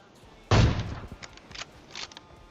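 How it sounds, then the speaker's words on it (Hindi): Gunfire rings out in PUBG Mobile: one loud, close shot burst followed by several fainter, scattered shots and echoes over about two seconds. "अब मैंने क्या कर दिया, गोली चला दी"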